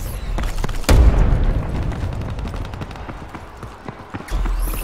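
A grenade bursts in the video game Ghost in the Shell: First Assault, one loud, close boom followed by a rumbling decay, with a sharper blast returning near the end.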